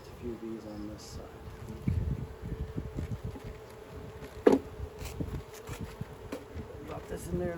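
Steady low buzzing of many honeybees close by at an open hive during an inspection, with a voice talking intermittently over the hum and a brief sharp click midway.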